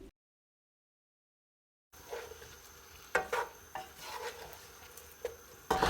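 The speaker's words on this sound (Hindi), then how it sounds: "अब इन सब मसालों को हम लोग अच्छे से मिक्स कर देंगे।" A spatula stirs spices, white pepper and sugar into vegetable fried rice in a pan, scraping and clinking against the metal over a low sizzle. The sound begins after a short silence and comes close, in irregular strokes.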